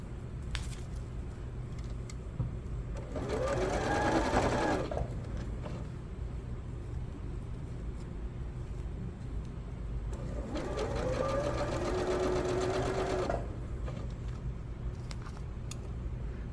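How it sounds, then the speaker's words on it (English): A sewing machine stitches a seam on pajama pants, running in two sustained passes a few seconds long with a rising and falling motor whine. A steady background hum continues between the passes, and no one speaks. "You're going to stitch all the way to the corner, taking your pins out as you go."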